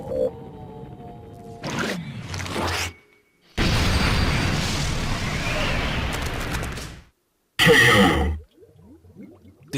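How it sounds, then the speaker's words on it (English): A cartoon explosion in a Splatoon 2 animation, a loud sustained roaring burst lasting a few seconds, bracketed by short sharp effects and a brief silence before a final punchy hit. "The cool kids walk away from explosions."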